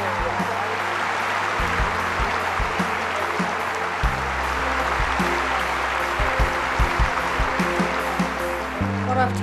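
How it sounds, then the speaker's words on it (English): A large crowd applauds the Friends for Life 2013 winners, a boy named Owen and his dog Hatchie, in steady, dense clapping that fills the hall, with a low music-like hum beneath. "Let's give them both a round of applause, our winners of Friends for Life 2013, Owen and Hatchie."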